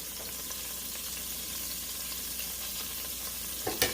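Pot roast meat searing in a hot pan, a steady hiss of frying fat that holds evenly throughout, with a brief louder clatter near the end.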